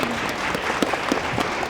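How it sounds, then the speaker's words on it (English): Audience applause at a national Aboriginal moot court event, a steady wash of clapping with a few sharper individual claps standing out, and no talk over it. "Yeah, another round of applause."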